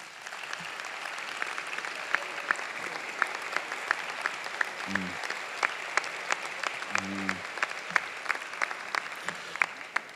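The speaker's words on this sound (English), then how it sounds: "let's give a round of applause to everybody in U.S. programs" Audience applause at a 2017 U.S. summer programs closing ceremony, steady moderate clapping from a fairly distant crowd, with a couple of brief low thumps partway through.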